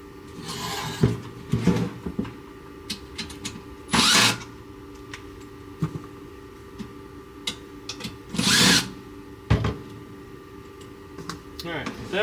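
Power drill backing out the pair of screws that hold the back piece onto an LED retrofit fixture, several short whirring bursts of about a second each separated by handling clicks and rattles, fairly close.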